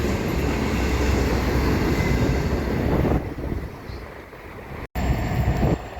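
A CN freight train rolls past near a rail yard on the Dundas Subdivision in London, Ontario, producing a loud, steady rumble of wheels and wagons that dips midway and briefly cuts out before returning, with no voices.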